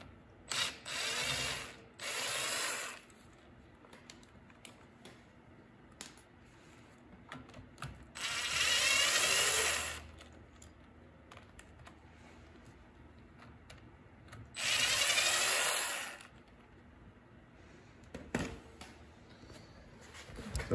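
A ratchet works bolts loose on a Dana 30 axle vacuum pump of a Jeep YJ, sounding in four close, separate bursts of quick clicking, each lasting a second or two, with quiet gaps between them.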